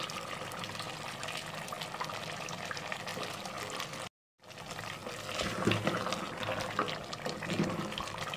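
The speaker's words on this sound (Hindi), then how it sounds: "अब हम इसमें 1 गिलास तकरीबन पानी डाल देंगे।" About a glass of water splashes and gushes steadily into a pressure cooker of potato chicken curry, briefly cut off midway before resuming with some clinking.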